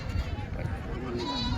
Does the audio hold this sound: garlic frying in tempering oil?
no